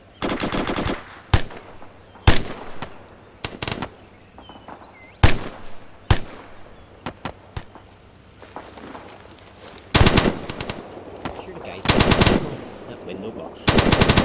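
Bursts of automatic machine gun fire in the military shooter ArmA 3, sharp rattling volleys at varying distances separated by short pauses, with quieter single shots in between.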